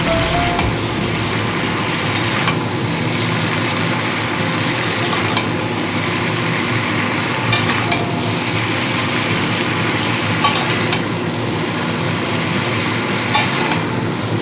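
Mixed winter vegetables with tomato and Kashmiri chili powder stirred in a pan, giving a steady scraping and soft sizzling with occasional sharp utensil knocks, close and continuous without talk.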